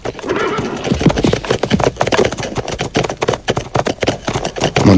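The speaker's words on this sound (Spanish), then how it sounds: "Montamos a caballo" Horses neigh loudly and whinny again and again, up close, while their hooves clip-clop in an uneven rhythm underneath the calls.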